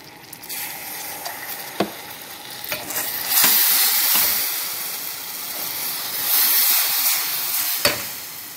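Cream and a little butter sizzling in a pan for toffee caramel, with loud bubbling hiss that swells in two waves and a few clicks and scrapes of stirring, with no talking.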